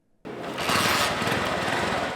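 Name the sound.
motorcycle engine starting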